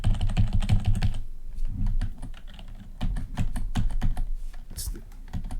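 Rapid typing on a faulty computer keyboard, close and crisp, with clustered bursts of key clicks, a short pause, then more irregular tapping, all over a low background hum.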